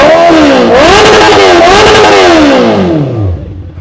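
A Kawasaki ZX-4RR motorcycle engine starts and revs loudly up close, its pitch rising and falling through several throttle blips before winding down and fading to idle at the end.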